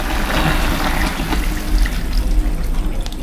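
Water is poured into a cooking pot holding chicken for a broccoli, chicken and carrot dish, a steady splashing fill that runs loud and close throughout with no talk.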